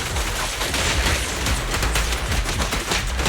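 Sustained, dense gunfire from the video game Zenless Zone Zero, rapid overlapping shots forming a loud, continuous barrage with no talking.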